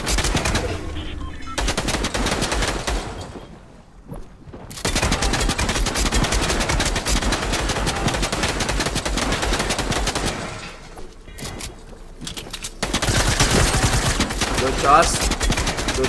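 Rapid automatic gunfire from automatic rifles in a Fortnite squad match, dense bursts of shots repeating over several seconds with brief pauses, loud and close, with players talking at times.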